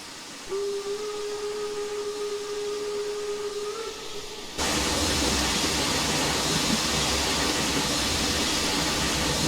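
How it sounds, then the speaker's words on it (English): Steam locomotive cylinder cocks on the Brockenbahn Wernigerode to Brocken route in Train Simulator Classic, a steady whistle tone over hiss, then a sudden loud broadband roar of venting steam that continues to the end. "I didn't realize that was the cylinder cocks"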